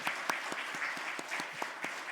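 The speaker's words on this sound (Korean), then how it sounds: "우리 찬양대와 또 하나님께 영광의 박수를 한 번 더 돌려드리죠." Applause from a church congregation during a Sunday morning service, directed at the choir, soloist and accompanist. Fairly faint and steady, with individual claps standing out sharply against a continuous wash of clapping for a couple of seconds.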